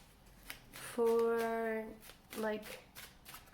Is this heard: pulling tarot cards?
yes